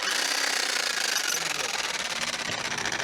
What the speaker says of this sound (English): my wife's going to try the jackhammer